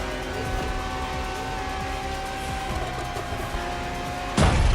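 A Ferrari LaFerrari hybrid supercar drives in the racing game The Crew Motorfest, its engine droning steadily and fairly loud with faint tire noise, ending in a sudden louder burst.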